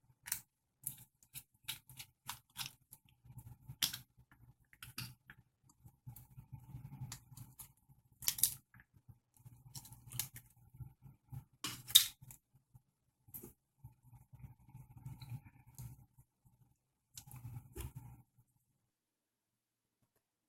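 Small screwdriver work on a TI-83 Plus calculator's foil shield: faint, close, irregular clicks, scrapes and brief rustles in scattered bursts across twenty seconds, with quiet gaps between and no talking.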